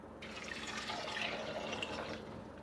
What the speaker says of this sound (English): And I'm adding water.